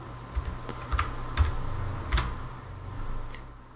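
Keystrokes tapped on a computer keyboard during a design software session, a few sparse clicks spaced irregularly over steady faint background hiss, fairly quiet and close.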